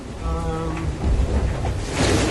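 Wind and rough ocean waves around an offshore racing yacht in 25–30 knots during the Vendée Globe, a steady loud roar of wind and sea wash that swells toward the end, with a brief tonal whine early on.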